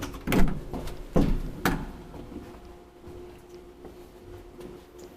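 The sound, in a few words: Kone traction elevator door opening or closing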